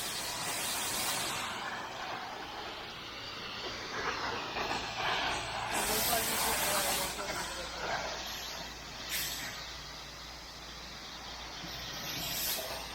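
Pressure washer spraying water against the siding of a house during an exterior wash, a steady broadband hiss with surging bursts of spray, moderately loud and continuous throughout.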